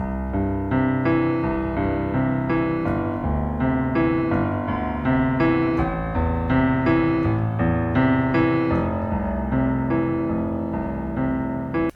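A piano pattern played low on the keyboard, dense and rumbling, with overlapping bass notes sustaining into a continuous, heavy wash of sound.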